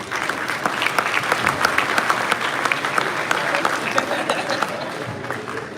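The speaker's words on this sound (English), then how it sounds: "Give yourselves a round of applause for getting here." A crowd at the Hot Wheels Collectors Nationals finale bursts into sustained applause, many hands clapping loudly and evenly for several seconds, with some voices mixed into the noise.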